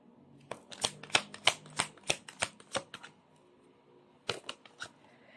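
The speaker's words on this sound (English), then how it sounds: "let's try to pull up another set of cards" Tarot cards being shuffled close by, a fast run of sharp riffling flicks, a short pause, then a second shorter burst, crisp and fairly quiet with nobody talking.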